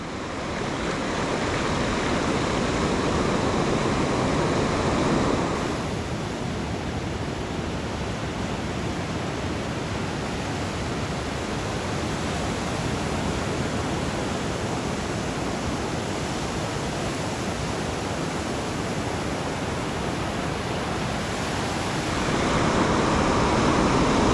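Ocean surf at Long Beach rolls in as a steady, loud wash of breaking waves and foam, a dense roar that swells slightly near the start and end, with no voices.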